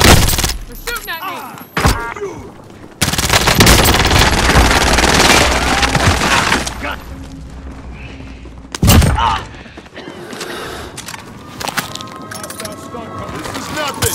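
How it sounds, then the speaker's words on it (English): Enemies fire machine guns in a tactical shooter game, with dense loud bursts and rattling volleys, some sudden and close, while players shout over the gunfire. "They're shooting at me!"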